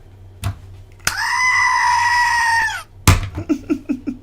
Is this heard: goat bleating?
yes